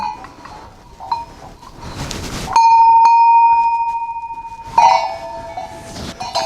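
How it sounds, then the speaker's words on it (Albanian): Antique Cham bells, part of a collection of centuries-old bells, struck one after another, giving bright sustained rings that fade slowly between handling clatter and rustle. "Këto quhen zile çame dhe i kam grumbulluar."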